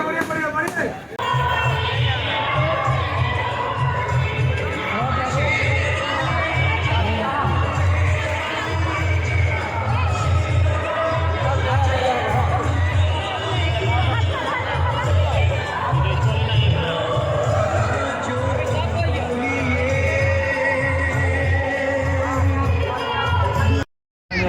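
Dense crowd hubbub at a packed Durga Puja pandal in Ranchi during Dussehra, with overlapping voices, shouts and steady background music filling the whole stretch at close range.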